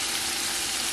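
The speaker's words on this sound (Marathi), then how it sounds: "कांदा कसा लालसर झालाय तर पेस्ट टाकूया त्याच्यात" Chopped onion browned to a reddish colour with fresh tomato paste stirred in, frying in a pot for a village chicken curry, giving a steady, dense, close sizzle and hiss that fills the whole moment without a break.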